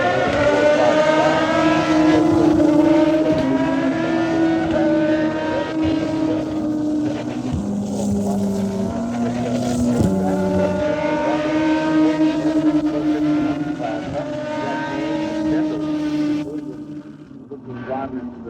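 IndyCar race cars roar past turn 5 at Road America during the Xpel Grand Prix, engine notes rising and falling as cars sweep by, with race commentary talking over the steady racing noise.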